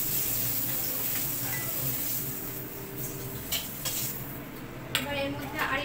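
Fried food being lifted out of a pan with metal utensils: soft clinks and scrapes of cutlery against the pan over a low background sizzle, with a few sharper knocks toward the end.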